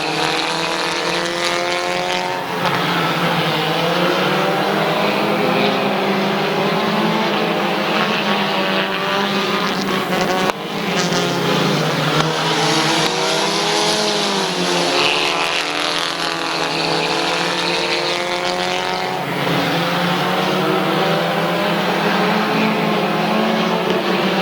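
Race cars roar around Midvale Speedway in a continuous loud drone, engine pitch rising and falling as they pass, with swells marking cars sweeping by close.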